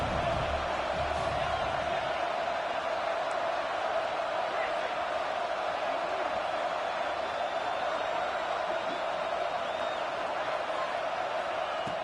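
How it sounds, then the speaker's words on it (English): Football stadium crowd at an Oregon versus LSU game roaring to back the defense, a dense, sustained wall of distant cheering and noise held steady for the whole stretch without letup. "this crowd coming to life here, trying to help the defense get a stop with the offense pinned back"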